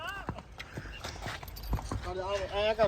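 A mare's hooves clip-clop on hard ground at a village riding stable in Punjab, mixed with people talking and a brief whinny-like call near the end.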